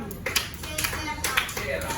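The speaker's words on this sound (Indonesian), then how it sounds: "tepuk tangan buat kelompok apa?" A classroom group claps hands together, a few scattered bursts of clapping over a short stretch, moderately faint, with voices in the room around it.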